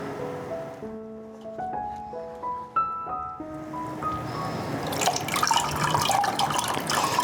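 Water draining from a papermaking frame lifted out of a tub of pulp, starting with a few drips and trickles and growing into a steady rushing pour by the end, close and moderately loud.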